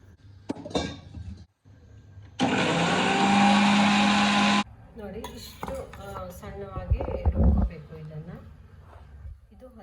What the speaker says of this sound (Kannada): ತೆಂಗಿನ ತುರಿನ ಹೆರ್ಕೊಂಡು ಹಾಗೆ ಅದನ್ನು ರುಬ್ಕೊಂಡು ಹಸಿ ತೆಂಗಿನಕಾಯಿ ತುರಿನ ಇದಕ್ಕೆ ಹಾಕಬೇಕು